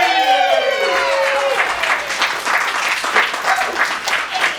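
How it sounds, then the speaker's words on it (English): A loud burst of audience applause and cheering at an improv showcase fills the space, steady and sustained throughout, with a whoop rising over the clapping at the start. "let's give a warm round of applause"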